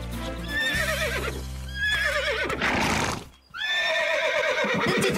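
A horse whinnies loudly several times in a row, close up, with a quivering high neigh and a short pause before the last call.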